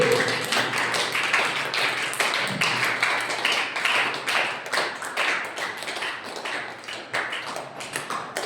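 A congregation at a Sunday church service clapping their hands in thanks to God, steady rhythmic applause from many people filling the room, loud and continuous without pause.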